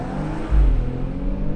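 A 2022 BMW X3 M40i compact luxury crossover launches hard in Sport Plus, its engine giving a deep, steady rumble that swells briefly into a louder surge partway through the short burst.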